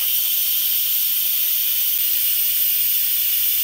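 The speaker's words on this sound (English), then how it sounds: "So we're gonna release the pressure, and you just turn your valve." Steady, loud hiss of steam venting from an Instant Pot pressure release valve while a 16 bean soup cooks, continuous and even with no pauses and no voices.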